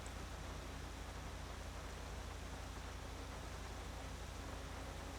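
Steady rain falls in the game GTA V on the NoPixel roleplay server, a faint, even hiss of rain on surfaces with a low rumble underneath, continuous and without speech.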